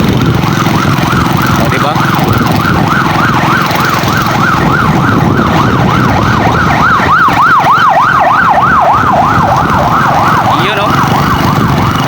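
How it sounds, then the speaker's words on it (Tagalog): A loud wailing ambulance siren rises and falls continuously, close by, over road noise, with a person speaking briefly in Filipino. "Tabi tayo guys, may ambulansya guys."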